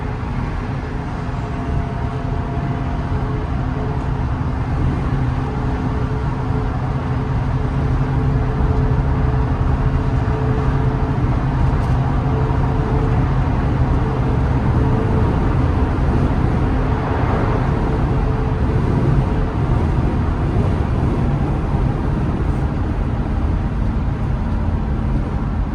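A 1975 Mercedes-Benz 450SL drives along, with a steady, loud engine drone and road rumble from inside the car that stay constant for about 26 seconds and carry no speech.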